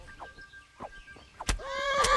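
A horse in the Kingdom Come Deliverance video game whinnies sharply after a stabbing, a close, loud neigh rising and trailing off at the end of an otherwise quiet moment with faint hoof sounds.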